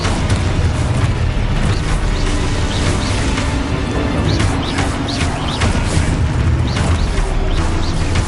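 Spell blasts and explosions keep booming in combat in the video game Hogwarts Legacy, a dense, loud, continuous wash of bursts and crashes with no clear pauses.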